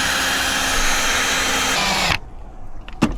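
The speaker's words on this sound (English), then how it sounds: "So I got to drill a hole for the wires to go through." Power drill boring a small hole for two wires while fitting a fridge in a car, a loud steady whine that runs for about two seconds then cuts off, followed by a few faint clicks.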